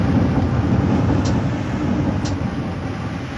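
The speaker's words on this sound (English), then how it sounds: "The AI already started driving the train." Lausanne M2 metro train driving in a metro simulator game, a steady low rumbling roar of wheels and motors with faint periodic clicks over the track, loud and continuous without talk.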